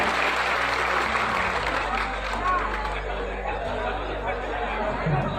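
A crowd gives sustained, loud applause at a community mass wedding ceremony in Savli, Vadodara, with chatter mixed into the clapping throughout.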